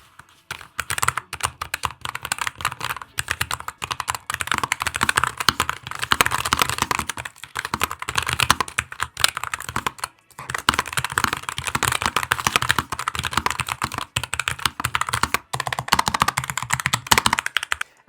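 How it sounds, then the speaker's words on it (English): A Carbon 60 keyboard with tactile brown switches is typed on quickly and steadily, giving close, crisp key clacks for about eighteen seconds, with one brief pause midway. "the profile is a little bit more clicky than you'll experience in other keyboards"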